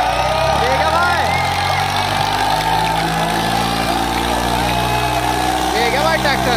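Eicher 485 and Swaraj 855 tractors straining against each other in a tug-of-war contest at a village event: continuous heavy diesel engine roar under a commentator's excited shouting over a loudspeaker.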